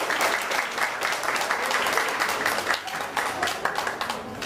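Dense applause from a wedding audience at a Thai ceremony as the groom places a diamond ring on the bride, a steady wash of many hands clapping at close range for several seconds.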